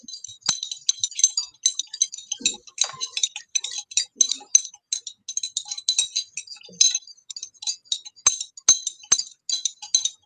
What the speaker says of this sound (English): Okay, you all can keep stirring it.